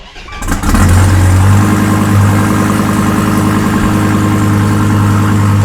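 A fifth-generation Viper engine cranks and catches, then settles into a loud, steady idle with a low rumbling hum that continues.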